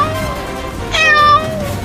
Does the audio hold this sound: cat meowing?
yes